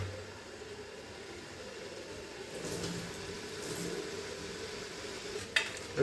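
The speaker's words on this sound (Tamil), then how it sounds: "ஆல்ரெடி வதங்கி இருக்க வெங்காயம், பட்டை, கிராம்பு, சோம்பு எல்லாத்துக்குமே நல்லா கிண்டி விட்டுக்கலாம்." Already-fried onion, cinnamon, cloves and fennel are stirred in a pot for chicken biryani, making a soft, steady sizzle with light scraping and a small metallic clink near the end. The sound is faint and close.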